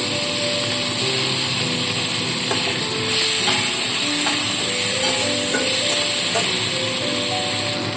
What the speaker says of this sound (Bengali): তো এবার চিংড়ি মাছটাকে দিয়ে চিংড়ি মাছটাকে ভেজে তুলে নিতে হবে